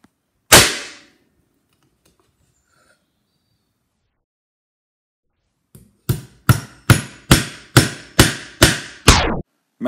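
A hammer hits wood: one sharp, loud knock, a long silence, then seven or eight rapid blows in a steady rhythm, close and percussive.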